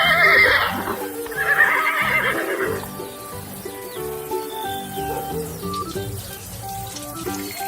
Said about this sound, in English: Horse! It's a brown horse.